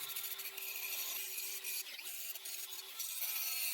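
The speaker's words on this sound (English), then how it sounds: "Kind of mark out with a soapstone here where we want this thing at." Soapstone rubbing across a metal minibike frame to mark it, a light continuous dry scraping with short repeated strokes, close and steady and free of any talk.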